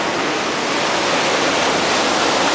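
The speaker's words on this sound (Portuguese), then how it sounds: "Nossa, esse mar tá muito louco mesmo, mano." Sea waves crash and roar inside a sea cave, a loud, steady wash of water noise that fills the whole moment with no break and no voices.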